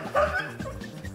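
A husky gives a sharp yip followed by soft whimpering, close and fairly loud, with a bit of human chuckling mixed in.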